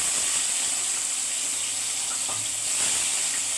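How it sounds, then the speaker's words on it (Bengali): Prawns sizzle in hot oil in a pan, a dense, steady hiss that stays loud and even throughout with no talking. "তেলটা গরম হয়ে গেছে, আমি চিংড়ি মাছগুলো দিয়ে দিচ্ছি।"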